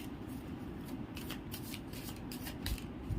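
A deck of tarot cards being shuffled close by, with steady soft riffling and flicking of card edges that continues throughout.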